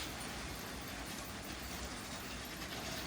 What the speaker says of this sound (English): Maersk train continuing to run really well.